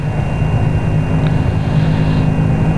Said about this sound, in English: Gotta let this twin engine come in.